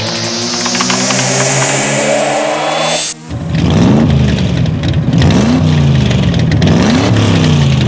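A high-performance race car engine revs hard, pitch climbing steadily, then cuts out sharply for an instant before roaring back in rapid rising and falling surges, loud and close throughout with no talk.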